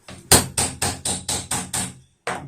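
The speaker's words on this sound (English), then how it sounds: "you probably should use your rubber mallet for" Sharp, evenly spaced taps strike end table parts, seven close, loud knocks in a steady rhythm, then a short gap and one more hit, with no talk.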